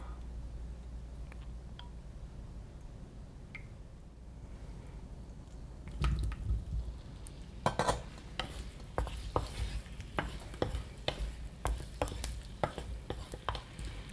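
Cooked octopus stir-fried in olive oil in a pan: quiet background hum at first, then a soft sizzle with repeated clicks and taps of a utensil against the pan, close and fairly quiet, no voices.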